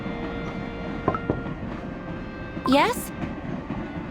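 A holiday express train rolls along in the video game Cookie Run Kingdom with a steady low rumble and a couple of faint clacks, while a character briefly speaks.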